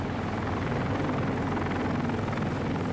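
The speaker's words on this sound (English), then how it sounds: "By late afternoon, the chopper flow at the embassy really started." A helicopter flies in at an embassy during an evacuation in Vietnam, a loud, continuous rotor roar that stays steady and close throughout.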